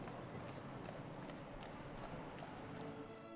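Horse hooves clip-clop in a steady, even rhythm as a horse-drawn tram of the Douglas horse trams on the Isle of Man moves along, faint and continuous.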